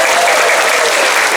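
A crowd at a religious talk breaks into loud, dense applause that stays steady and close for the whole short burst.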